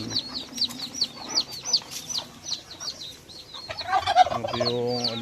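A male turkey gobbles in loud repeated bursts at close range among a flock of white turkeys, with clucking fowl and other farmyard calls mixed in.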